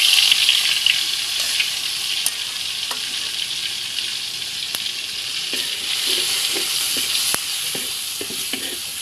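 Onion and garlic paste frying in hot oil for a fish dish, a loud, continuous hiss and crackle of sizzling, with scattered stirring clicks and utensil taps rising through the second half.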